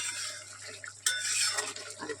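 Mutton curry stir-fried in a pan as the masala thickens, a spatula scraping and clinking against metal with one sharp knock, over a faint sizzle and low steady hum.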